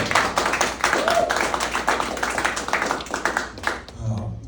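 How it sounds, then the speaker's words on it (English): A small audience claps together at a live evening set in a room, a dense, steady patter of hand claps mixed with crowd murmur that holds for several seconds before thinning out near the end. "Clap it up one time."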